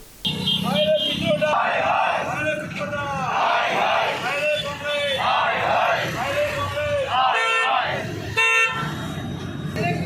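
A street crowd yells and jeers while an effigy of Sam Pitroda burns at a protest, with car horns tooting in steady bursts and voices shouting over the noise.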